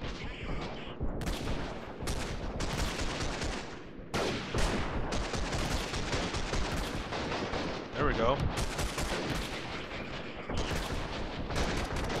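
Rapid gunfire crackles through a video game battle, with dense bursts of shots and explosive booms filling the whole stretch almost without pause, loud and close.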